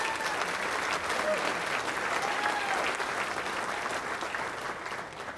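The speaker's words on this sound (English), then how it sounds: "So Kevin, a round of applause for your contributions." Sustained applause from a gala audience at a chamber of commerce centennial awards program, steady and dense throughout, with a slight fade toward the end.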